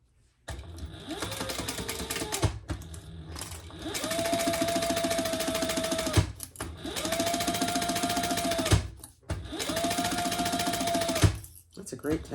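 A sewing machine stitches a shoulder bag seam in several sustained bursts of rapid, loud whirring and clatter, separated by brief pauses, with a person talking in between runs.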